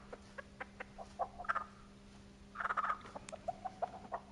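A pet chicken named Nugget makes soft clucking and chattering calls in short bursts, close by and fairly quiet over a steady low hum.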